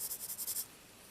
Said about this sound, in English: you just guess you freehand a circle, and then you're just shading it in